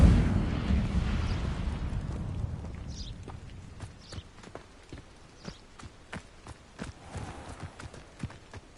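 Incendio fire spells cast in Hogwarts Legacy burst with a whooshing blast, then a string of sharp, evenly spaced crackling impacts and thuds follows at moderate loudness.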